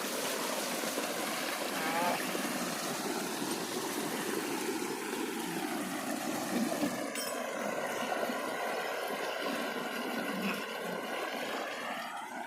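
Irrigation water gushes steadily from an opened sluice gate into a rice paddy, a continuous broad rushing wash that holds at the same level throughout, with a person talking over it.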